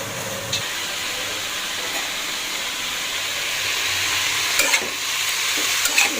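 Bitter gourd fry with turmeric, salt and green chili sizzles in a pan, a steady mid-level hiss with a few sharp scrapes and clinks of a spatula stirring near the end.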